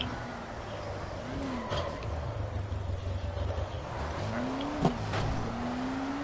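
A car in Dying Light drives along with a steady engine drone, and its tires squeal in rising skids twice, the second ending in a sharp knock. A voice talks faintly underneath.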